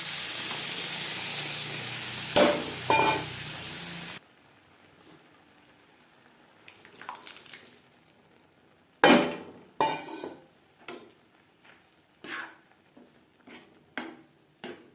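Boiled lentils for dal fry tipped into a pan of cooked onions and tomatoes, giving a few sharp clinks and thuds followed by soft sizzling and scattered spoon knocks against the pan.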